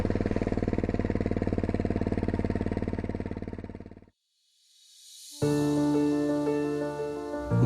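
A loud motorcycle engine throbs with a rapid, steady pulse for about four seconds, then cuts out into near silence before music begins.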